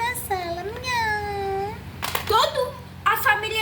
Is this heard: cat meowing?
yes